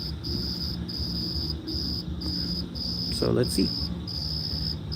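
Crickets chirp outdoors at night in a steady, pulsing rhythm, close and continuous, while someone speaks briefly over them.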